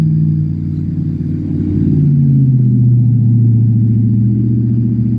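Cars drive past on a nearby road: a close engine rumble swells and then drops in pitch as one vehicle goes by, followed by a steady lower drone.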